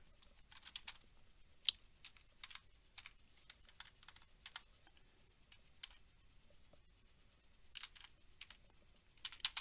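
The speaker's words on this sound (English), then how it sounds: "Let me just type in." Typing on a computer keyboard during a live trading stream, a quiet, close patter of irregular keystrokes with occasional sharper clacks, no voices.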